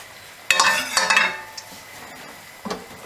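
Onions, chilies, curry leaves and mustard seeds in coconut oil being stirred into Sri Lankan paripoo dal, a sudden burst of scraping and sizzling that settles into a quieter simmer, then one more brief scrape.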